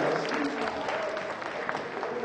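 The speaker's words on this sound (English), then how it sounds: "I'll get a round of applause for Steve on the drums, please, guys" Audience at a comedy show applauds the drummer, steady dense clapping from a room full of people throughout.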